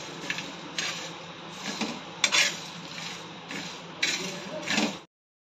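Whole spices roasting for chicken biryani on a hot tava over a low flame, with faint scraping and clinking of a utensil against the pan in quick irregular bursts.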